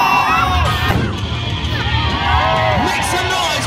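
A large crowd at an outdoor monster truck show cheers and whoops loudly after a human cannonball act, with children shouting in a constant roar of excitement.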